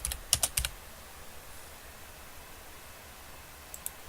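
Computer keyboard typing in a quiet room: a quick cluster of a few soft key clicks at the start, then near silence, with two more faint taps near the end.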